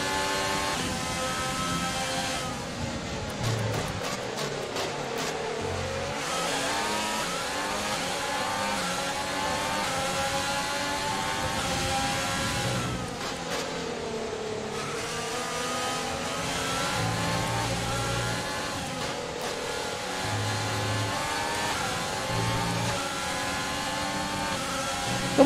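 A Formula 1 race car engine in the F1 2020 video game screams continuously at high revs, rising and dropping in pitch through repeated gear shifts and accelerations.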